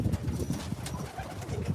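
Pigeons coo in a short, repeated, close-up series of low throaty calls, with a faint outdoor background and no talk.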